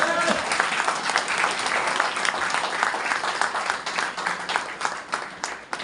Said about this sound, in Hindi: यस, इसके लिए ताली होनी चाहिए कि नहीं होनी चाहिए।